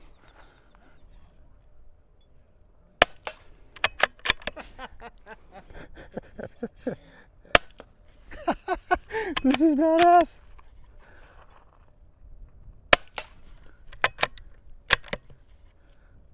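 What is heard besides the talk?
suppressed rifle shots with OSS Rad 22 suppressor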